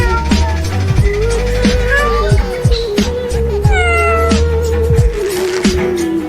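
A cat meows repeatedly in rising, wavering cries over a loud, busy background of music and thumping effects.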